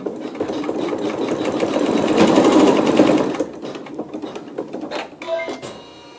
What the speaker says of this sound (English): I will drop the needle right where that seam line is and hold my fabric flat and square and stitch match point 14